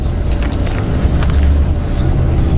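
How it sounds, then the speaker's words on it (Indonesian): Engine of a luxury Sarwonadhi Trans bus pulling away from Surabaya toward Purabaya Bungurasi terminal, a continuous low rumble with road noise, steady and close from inside the cabin. "Ini kita busnya udah langsung berangkat."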